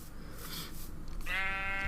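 Sheep in the video game Life in the Woods Renaissance bleating once, a drawn-out, wavering baa rising clearly after some soft rustling, close and alone without talk.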